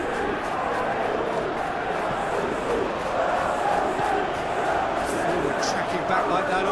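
A stadium crowd cheers and roars in a simulated Premier League football video game match between Manchester City and Brentford, a steady, broad wash of crowd noise swelling slightly over several seconds, with commentary-like voices mixed in.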